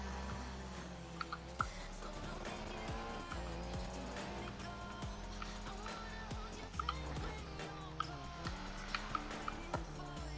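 A car races in the video game Need for Speed: Payback, its engine droning and shifting pitch through repeated revs, with scattered ticks and short tire squeals over a steady mid-level roar.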